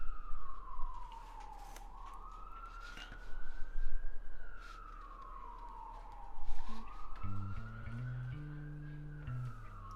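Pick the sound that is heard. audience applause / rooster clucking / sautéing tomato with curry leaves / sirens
sirens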